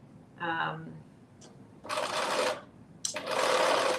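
A sewing machine stitches a Simplicity 9844 pattern in two short loud bursts of whirring, with a brief tone and quiet clicks before them.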